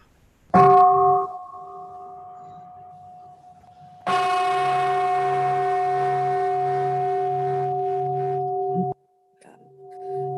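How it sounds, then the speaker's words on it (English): A meditation bell is struck twice: one sharp strike rings out briefly, then a second clear strike sustains a long, steady shimmering tone for about five seconds before it is cut off, close and loud. "Would you like the sound of the bell, Poonam or Tina?"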